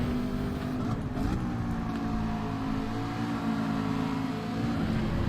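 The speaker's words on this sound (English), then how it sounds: "You can hear that Ferrari engine," A Ferrari GT3 race car engine in Gran Turismo 7, heard as a steady, sustained motor drone with harmonic whine, held at an even loud level without clear revving changes for several seconds.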